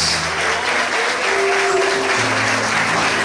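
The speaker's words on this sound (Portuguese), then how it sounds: "aplauda Ele bem forte, bem forte que Ele merece" A church congregation applauding loudly and steadily in a worship service, dense continuous clapping that fills the room with a few faint voices or tones underneath.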